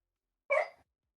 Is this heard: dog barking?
yes